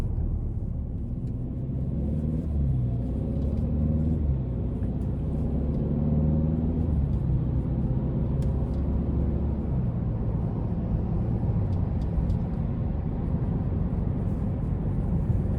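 A 2026 Hyundai Sonata N Line cruising off the throttle, with a steady low road and engine rumble filling the cabin and no voices throughout.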